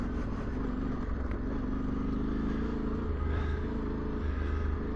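A 2024 Yamaha Tenere 700 motorcycle engine drones steadily while riding a dirt trail, a low rumbling hum with slight rises in revs and some clatter, constant and close, no voices.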